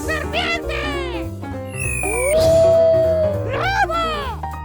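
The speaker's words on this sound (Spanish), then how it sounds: "¡Lobo!" A wolf howls in a children's animal-sounds cartoon, one long drawn-out howl in the middle, set among chirpy voices and musical effects.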